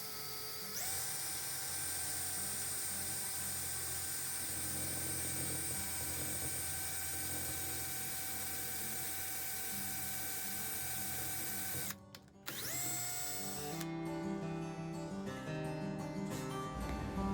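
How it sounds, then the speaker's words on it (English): A power drill fitted with a 7/64 bit bores a hole into the end of a wooden twig stick: a steady high whine runs for about twelve seconds, cuts out briefly, then restarts with rougher, grinding texture. "Taking the drill and a 7/64 drill bit, go ahead and drill the hole on the end of your stick."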